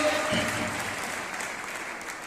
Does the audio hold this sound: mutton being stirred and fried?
no